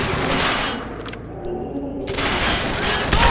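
Gunfire bursts in the video game Quantum Break, dense rapid shots crackling loudly at the start and again after a brief lull.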